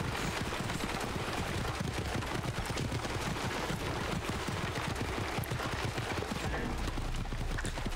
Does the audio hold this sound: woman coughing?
no